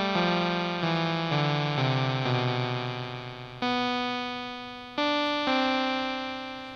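A Kinotone Sparks pedal's synth engine set to a triangle wave plays a sequence of sustained, buzzy notes, each stepping down in pitch before two jumps back up, loud and steady with no voices.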